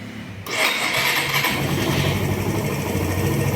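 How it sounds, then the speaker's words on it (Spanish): A motorcycle engine cranks and catches abruptly, then settles into a loud, steady idle close by. "vamos a prender la moto."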